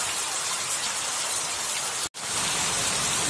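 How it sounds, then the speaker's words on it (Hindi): Heavy rain pours down on a flooded main road during a thunderstorm, a dense, steady hiss that fills the whole clip, broken only by a brief cut near the two-second mark, with no voices. "पूरा बारिश गिर रहा है आज तो"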